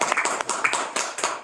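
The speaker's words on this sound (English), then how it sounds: "There was the first non-Zoom applause." A room audience applauds after a guest talk at a science lecture, a short burst of scattered hand claps heard close and fairly loud.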